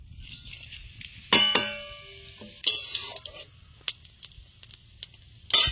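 Five-spice seeds, dried chili and bay leaf frying in oil for a tangy hog plum pickle, with a soft background sizzle broken by several sharp scrapes and clinks of stirring close by.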